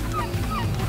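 Seagulls call over a lake at a fishing outfitter in Quebec's Chibougamau region, their wavering cries rising over a loud, steady low rumble of wind or motor.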